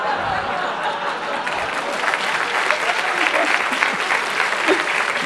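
An audience at a live stand-up comedy show claps in a sustained burst of applause, dense and even, with a few chuckles mixed in.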